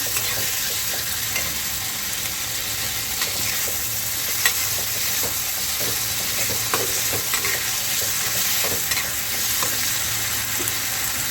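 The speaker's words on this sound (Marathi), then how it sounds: "याला छान आता परतून घ्यायचं थोडंसं" Chutney ingredients are sautéed in a pan, giving a dense, steady sizzle close up with faint scraping stirs scattered through it. The sound stays loud and even, with no talk.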